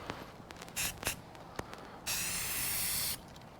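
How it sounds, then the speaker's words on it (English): Short bursts of Rust-Oleum aerosol spray paint hiss from a narrow nozzle, then one long sustained spray lasting about a second, close and crisp amid faint handling clicks. "I hate the spray on the Rust-Oleum. It's very narrow."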